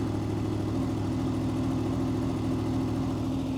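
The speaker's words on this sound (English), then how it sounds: "If you turn it towards the right hand side, as you can hear, the RPMs are going up." A Honda VFR800 VTEC motorcycle engine idles steadily close by during an idle speed adjustment with a screwdriver, a constant low rumbling drone with a faint rising tone as the revs climb, heard alone.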